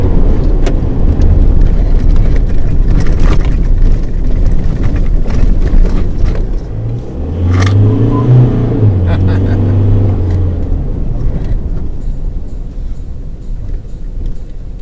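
A Mazda BT-50 3-litre bakkie engine under load while driving, a continuous low rumble that rises and falls, with a deeper revving swell in the middle and road and wind noise throughout.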